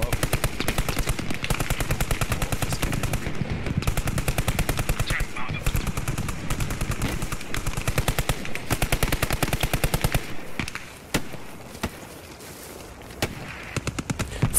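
Sustained, loud machine-gun fire in the video game Post Scriptum: rapid, dense bursts that run nearly nonstop for about ten seconds, then give way to sparser, scattered shots.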